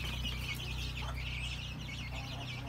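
A mixed farmyard flock of hens and chicks clucks and chatters continuously at moderate distance, a steady overlapping murmur of bird calls over a low background hum.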